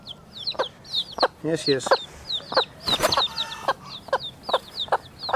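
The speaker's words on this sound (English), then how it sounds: "One of those chicks that were born a couple of months ago started to crow." A young rooster, a chick hatched a couple of months earlier, tries out a rough, breaking crow amid steady nearby clucking from other chickens, with a short spoken voice in the background.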